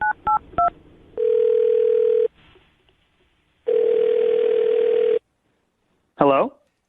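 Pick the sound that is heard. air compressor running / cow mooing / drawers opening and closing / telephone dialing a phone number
telephone dialing a phone number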